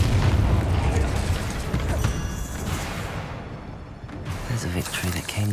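A Bombarda spell explosion booms in Hogwarts Legacy, one heavy blast followed by crackling debris and a second burst near the end. Spell shouts and combat noise blend around it.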